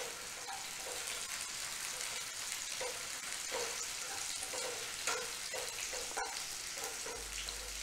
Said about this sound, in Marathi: मिरची कढीपत्ता परतून घ्यायचा आहे।